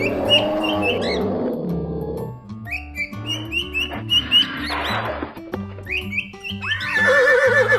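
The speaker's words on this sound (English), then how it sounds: "Horse" A horse neighs loudly and clearly, with rising and falling whinnies, snorts and several shorter calls across the stretch, close up and with no talk over it.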